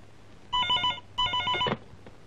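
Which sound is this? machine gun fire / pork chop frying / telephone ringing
telephone ringing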